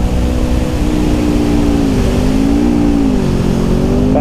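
A car engine running steadily on a race track during a track day, loud and continuous, with its pitch sagging and climbing as the driver shifts gears, including a drop back into third.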